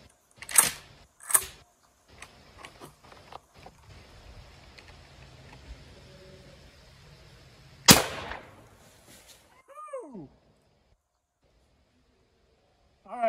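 Mossberg Maverick Model 88 shotgun fired at an outdoor target: two sharp reports close together, a steady low hum, then a third louder blast and some fainter squeaky sounds afterward, no speech.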